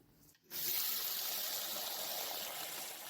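Lentils are rinsed under running tap water. After a quiet moment the stream switches on and pours steadily and fairly loud, with no talk.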